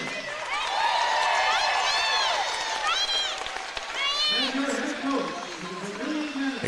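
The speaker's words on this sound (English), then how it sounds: "To the round of applause from the Tanager fans." Fans applaud steadily through a medal ceremony after a Class A state championship game, a sustained wash of clapping and crowd noise under a public-address announcer's voice.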